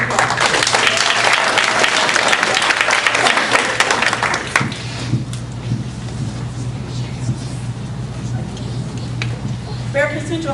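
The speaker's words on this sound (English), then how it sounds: "Let's give them McCoy Liston students a round of applause." Audience applause for McCoy Liston students at a school district board meeting, a dense burst of clapping that fades after a few seconds into quieter room noise with scattered claps.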